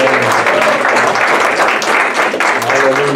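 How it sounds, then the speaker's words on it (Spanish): A church congregation claps loudly and steadily in worship, a dense continuous wash of applause for the whole stretch, with voices singing or calling out underneath. "Den un fuerte aplauso a nuestro Dios."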